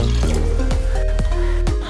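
Remaining water poured into a pot of sardine curry being prepared, a steady close splashing stream with a few sharper clinks and knocks of the vessel along the way.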